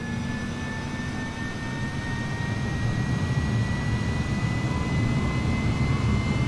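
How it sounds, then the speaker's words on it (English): A jet aircraft engine spools up steadily in Microsoft Flight Simulator, a loud continuous turbine roar with a faint high whine, building slightly in intensity over several seconds with no talking. "Okay, engine start looks good."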